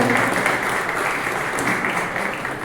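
An audience at a prize ceremony for a Maharashtra landscape painting competition applauds loudly, dense continuous clapping that fills the whole stretch and fades slightly at the end.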